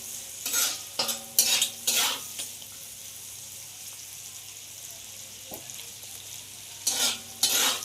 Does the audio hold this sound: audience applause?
no